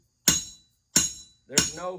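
Three sharp hammer blows land about once every 0.65 seconds, each a loud close crack with a short ringing decay as the hammer rebounds, struck loosely between forefinger and thumb; a voice begins speaking over the last blow.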